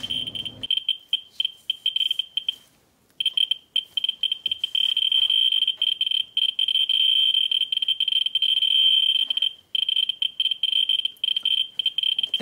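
Ludlum 14C Geiger counter held near an americium-241 pellet taken from a smoke detector: rapid clicking so dense it merges into a steady, buzzing chatter, broken by a few brief pauses, loud and close.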